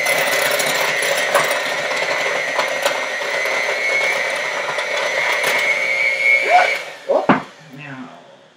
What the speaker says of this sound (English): We're gonna beat them with a hand mixer while we add the sugar.